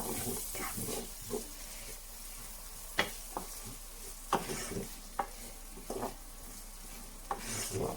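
Sliced ginger and garlic, with green chili, stirred in a hot frying pan for chana masala, giving a steady close sizzle broken by sharp scraping clicks of the spatula every second or so, with no talking.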